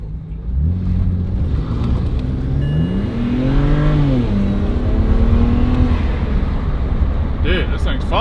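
A BMW E90 335i accelerates at full boost, its engine note rising and falling through the gears in a loud, continuous turbocharged roar heard from inside the car, with brief excited voices over it.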